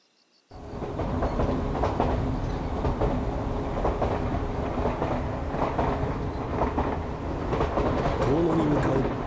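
An electric train running on rails toward Tono, heard from inside a nearly empty car: a steady rumble and clatter of wheels that starts abruptly and carries on close and continuous.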